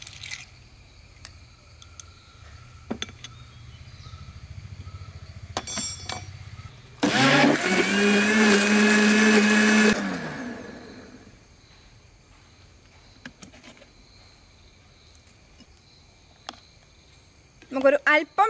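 A kitchen blender whirs for about three seconds, blending red dragon fruit with water and a few ice cubes: a loud, steady motor roar that starts and stops abruptly, with quiet stretches before and after.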